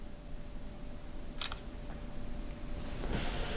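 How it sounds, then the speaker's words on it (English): Galaxy S22 Ultra phone camera shutter firing once, a quick crisp click over faint background hiss, with a softer second click near the end. "Very quick shutter speed."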